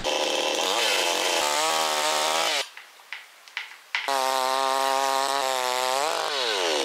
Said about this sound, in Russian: Сегодня я тестирую цепную пилу с карбюраторным двухтактным двигателем внутреннего сгорания. Хутор BS-62, поехали.